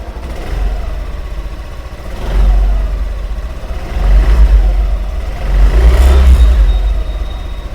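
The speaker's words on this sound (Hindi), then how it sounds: "बाकी रेस देख एक बार मैं ट्राई करता हूँ कि अगर ये मैं रेस दे पाऊँ।" A 2025 Yamaha Aerox 155 Version S scooter idles loudly up close and is revved in three short surges, the engine swelling and falling back to idle between each.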